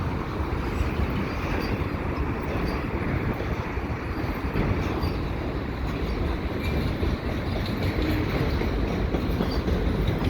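Continuous rumbling roar of a slow CPKC freight train rolling past on the rails at Lachine, steady and loud throughout, with wind buffeting the microphone.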